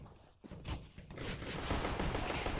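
Rapid bursts of gunfire and heavy shooting from a competitive shooter video game match, loud and dense, building into near-continuous sustained fire after a brief lull.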